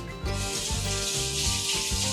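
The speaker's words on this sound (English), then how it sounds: "I'm gonna wash my hands real fast because just for germ reasons" Hands are rinsed under a running kitchen tap. The water makes a steady, loud hiss with some rubbing and splashing for the whole short stretch.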